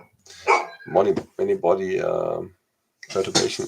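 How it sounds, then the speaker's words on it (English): A dog barks at home in a few short bursts mixed in with someone talking, then falls quiet before the voice resumes. "So that was the dog that came to our house during the last 2 years, which cannot wait to get food."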